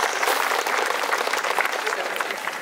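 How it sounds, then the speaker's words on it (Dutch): Loud, dense applause from a crowd greets a bride at a bridal fashion show at a summer fair, sustained throughout with many hands clapping close by. "En een hartelijk applaus voor deze bruid met de stoere bruidegom die vandaag ook aanwezig is."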